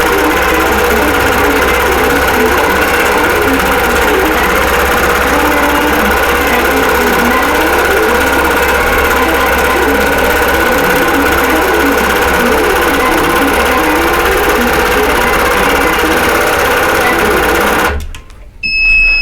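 An automated quilting machine stitches a Crown of Thorns pattern on a quilt of fanfare blocks, a loud, continuous mechanical hum with a rhythmic whirring pulse that runs steadily and then stops abruptly near the end.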